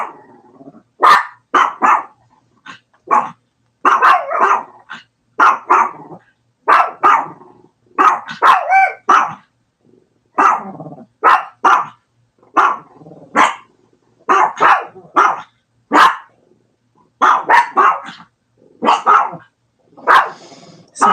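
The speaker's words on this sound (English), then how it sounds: "Sorry about the dogs." Dogs bark indoors in a long run of loud, sharp, close barks coming in irregular bursts and clusters, with short gaps of quiet between volleys and no speech.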